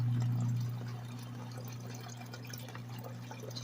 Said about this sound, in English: You just fill it up with some water, and these things work amazing.